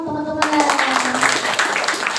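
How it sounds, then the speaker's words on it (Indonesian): An audience claps after a photography-division presentation. A short spoken moment comes first, then a sudden burst of dense, sustained clapping fills the room to the end. "tepuk tangan dong teman-teman"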